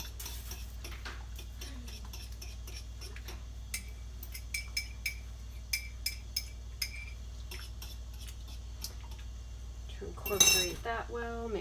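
A spoon stirs gelatin mixture into a hibiscus cranberry-style sauce just off the heat, making a quiet series of light clinks and ticks against the pot, then a brief louder scrape near the end.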